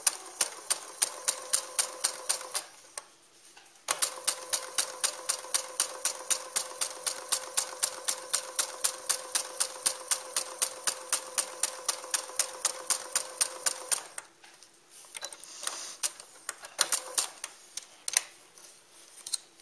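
A sewing machine stitches a peasant dress seam in close, rapid, evenly spaced mechanical clatter, running for several seconds, pausing briefly, then continuing before slowing into a few scattered stitches at the end.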